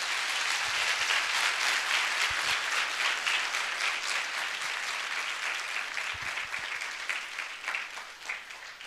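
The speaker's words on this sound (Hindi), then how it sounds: "आइए प्रभु के लिए एक अच्छी ताली बजाएंगे हम सब मिलके" Church congregation clapping together in worship, a steady dense applause that holds through the whole stretch and fades slightly toward the end, with no voice over it.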